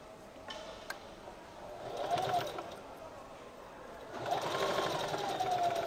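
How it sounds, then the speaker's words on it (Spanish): A sewing machine stitches along the top edge of a pair of shorts, running in two steady bursts of rapid whirring and ticking, close and fairly quiet. "Vamos a coser acá en la parte de arriba."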